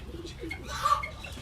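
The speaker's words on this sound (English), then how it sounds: "I think they're 1 week old baby pigeons" Week-old baby pigeons in an aviary give soft, faint coos and bird calls, with a brief louder call near the middle and a steady murmur of background noise.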